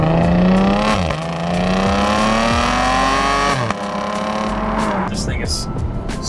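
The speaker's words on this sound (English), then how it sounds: "pop it over into sport mode and kick down a couple of gears and take off." An Audi SQ5 in sport mode kicks down a couple of gears and pulls hard, its engine note climbing through a loud gear change, with tire noise and wind under it.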